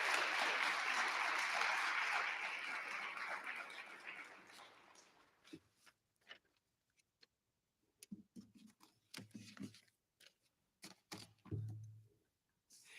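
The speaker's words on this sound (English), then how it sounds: "A big round of applause for all of them" Steady crowd applause at a regional science and engineering fair fills the first few seconds, then fades out, leaving scattered faint claps and shuffling noises.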